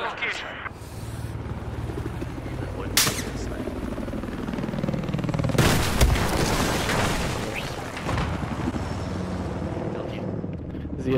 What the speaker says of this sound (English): Z-11 attack chopper.